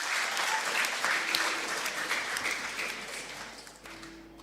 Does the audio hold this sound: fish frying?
no